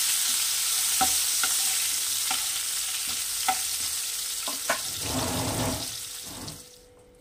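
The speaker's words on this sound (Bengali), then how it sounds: "আমি আলুটা ভেজে নেব" Sliced potatoes frying in oil in a pan over a lowered gas flame while Tangra fish with poppy seed paste is being cooked, a steady sizzle with periodic clinks of stirring and a louder burst of crackling near the end.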